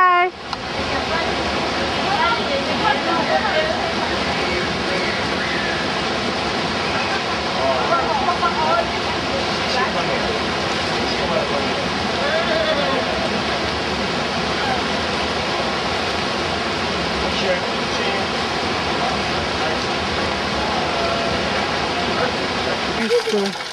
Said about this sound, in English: This is the hot spring water.